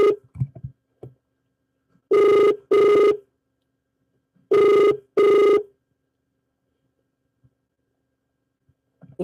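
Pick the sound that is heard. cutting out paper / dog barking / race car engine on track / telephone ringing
telephone ringing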